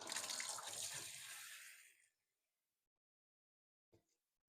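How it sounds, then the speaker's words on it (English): Warm water pours from a tap into a tub holding Labrador Retriever puppies, a loud rushing flow that fades and stops after about two seconds, followed by quiet and a brief soft knock. "Let's get some warm water going."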